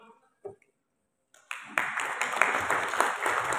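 Audience applause breaks out at a KPK Assembly oath-taking ceremony for APPA office bearers, a burst of many hands clapping that swells after a brief pause and continues steadily, with a short spoken word beforehand.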